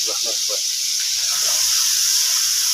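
Onions and tomatoes fry in a pan, giving a steady broadband hiss and sizzle throughout, with a brief spoken voice at the start.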